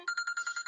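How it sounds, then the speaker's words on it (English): A telephone rings in quick, evenly spaced electronic trills, eight short bursts in under a second, clear and moderately loud against silence. "I need to stop that ringing."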